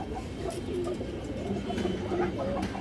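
A pair of high flyer pigeons coo softly in a steady low murmur, close by, with faint background noise around them.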